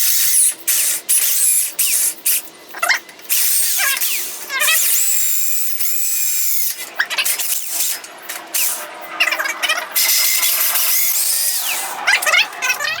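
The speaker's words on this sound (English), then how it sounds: "So I'm just going to drill these out straight through" A power drill bores straight through bolts on a motorized bike's engine mount for a 3HP four-stroke engine, in repeated bursts of high whining bites separated by short pauses, close and loud with metallic chatter.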